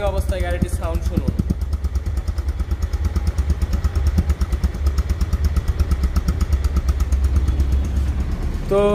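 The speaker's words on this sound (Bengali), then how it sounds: "তো রানিং অবস্থায় গাড়িটির সাউন্ড শুনুন" A Bajaj Pulsar double-disc ABS motorcycle, 2023–24 model, idles close by with a steady, rapid throbbing beat after a short rev at the start. A voice briefly speaks at the beginning.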